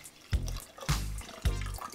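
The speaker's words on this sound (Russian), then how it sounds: "И также из холодильника добавляем холодную питьевую воду." Cold drinking water straight from the fridge is poured into cold borscht in three short splashing bursts, each a brief gurgling pour followed by a pause.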